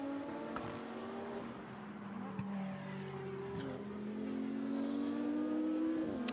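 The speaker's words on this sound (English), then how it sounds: "Car turns downhill once more." Race cars, including a Porsche, drive a circuit, with a steady engine drone rising in pitch as one accelerates downhill, loud and continuous.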